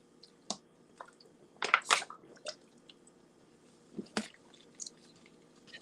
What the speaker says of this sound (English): Why are you drinking that water so fast?